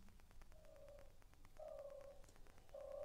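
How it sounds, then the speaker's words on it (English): Recorded turtle doves cooing, played back quietly: three soft, drawn-out low coos at a steady pitch, separated by short gaps, over faint background hiss. "Okay, I hear the turtle doves."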